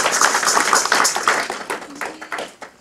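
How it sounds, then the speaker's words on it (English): A small audience claps at a literary salon and jewelry and art exhibit, a brief burst of close, distinct handclaps that thins out toward the end. "Can we give them a round of applause"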